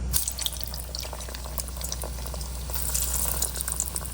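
Chicken cheese balls sizzle in hot oil over a lowered gas flame, producing a steady, close, dense bubbling hiss that stays even throughout with no voices.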